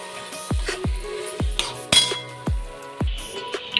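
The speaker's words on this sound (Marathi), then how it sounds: "एका भांड्यामध्ये काढून घेऊया सगळं" Freshly cooked bottle gourd halwa is scooped into a serving vessel, with about seven sharp, ringing metal clinks of spoon against pot spaced through the clip over a faint background hum.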